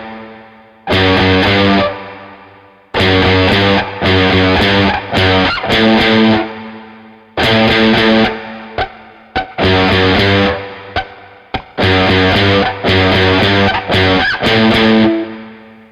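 A distorted electric guitar plays a riff, loud chord stabs in repeated phrases separated by short pauses, heavy with effects and with no voices.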